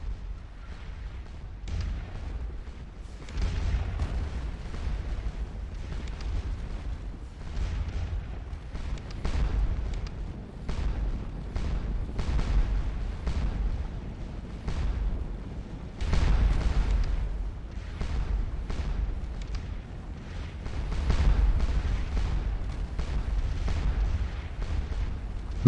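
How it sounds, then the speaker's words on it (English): Napoleonic artillery batteries at Waterloo in Scourge of War, firing shells as repeated deep booms every second or two, some overlapping in heavier volleys, echoing across the battlefield. "Firing at lots and lots of shells at your enemies"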